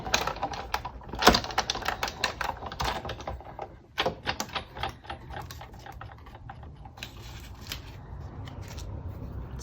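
Paper card stock being cranked through a die-cutting machine during papercrafting, heard up close as a run of dense, crackly clicking and rustling bursts, with a quieter steady grinding texture toward the end.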